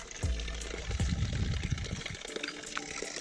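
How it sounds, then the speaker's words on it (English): A water tap runs with a gurgling, splashing flow that begins with a sudden gush, close and moderately loud, then settles into a steadier stream. "I want to turn the tap off, but it's just got to keep running."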